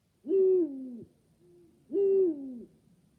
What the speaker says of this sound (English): This is a Eurasian eagle owl.